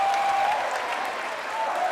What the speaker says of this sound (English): Talked a lot about this crowd, this raucous crowd.